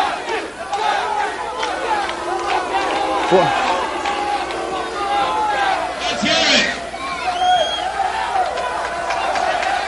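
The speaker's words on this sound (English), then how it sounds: "The crowd's so anxious, they do not want to wait for this." A mixed martial arts crowd at the Forrest Griffin versus Jeff Monson bout in overtime roars and shouts continuously, a dense, loud arena din with surging yells and swells of excitement throughout.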